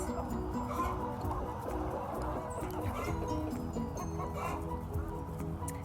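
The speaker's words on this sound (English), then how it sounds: "That's a rooster." Soft clucking and low murmuring calls of chickens close by, including a rooster, continuous over a faint background hum, with a distant bark.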